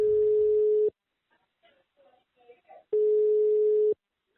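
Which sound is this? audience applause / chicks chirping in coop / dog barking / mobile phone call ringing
mobile phone call ringing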